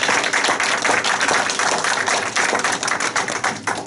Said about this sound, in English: I think we should all give him a round of applause before we start for this meeting